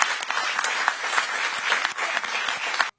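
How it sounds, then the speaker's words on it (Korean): Applause in a live Korean broadcast studio greeting news of Han Kang's Nobel Prize in Literature, a dense, lively clatter of many hands that runs loud and continuous, then cuts off abruptly at the end. "크게 박수 한번 주세요."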